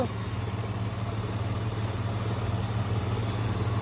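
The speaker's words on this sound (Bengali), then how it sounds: "এর ইঞ্জিনের সাউন্ডটা দেখেন আপনারা" A 2008 Mitsubishi Nativa GLS four-cylinder engine idles nearby with the air conditioning running, a steady low rumble and hum that holds evenly throughout with no talking.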